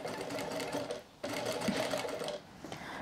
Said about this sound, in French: Attention à ne pas coudre les deux côtés de la robe